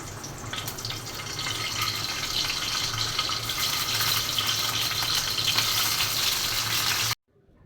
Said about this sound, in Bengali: এখন ডিমটা ভেজে নেব